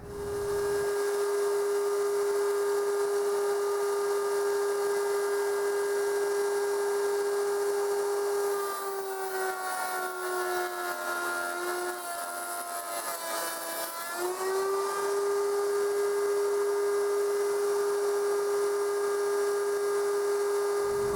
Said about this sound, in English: I'm going to route a dado on that